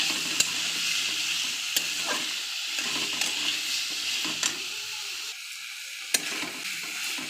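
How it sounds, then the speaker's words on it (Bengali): Pumpkin and potato are stir-fried with fried spices in a pan, giving a continuous soft sizzle broken by repeated clinks and scrapes of a stirring spoon, close up and fairly quiet. "এই মশলার সঙ্গে সবজিটা কষতে লাগবো।"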